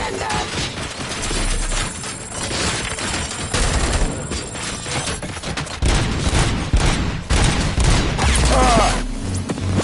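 Bursts of gunfire and heavy impacts in the RoboCop: Rogue City video game, with rapid volleys, mechanical clanks and booms layered over a dense, loud action soundscape and occasional game voices.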